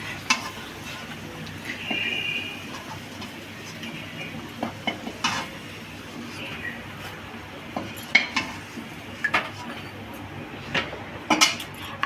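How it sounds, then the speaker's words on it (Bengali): Drumstick fritters lifted one at a time from a wok with a metal utensil, giving scattered clinks and scrapes against the pan over a low, steady kitchen background, with no talking. "কড়াই থেকে তুলে নিচ্ছি একটা করে, যাতে একটু তেল না ওঠে"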